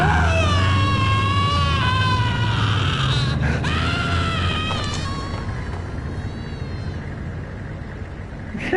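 A Max Payne enemy lets out a drawn-out, wavering death scream, high and wailing, over steady game background noise. It rises and falls in a few bursts before trailing off.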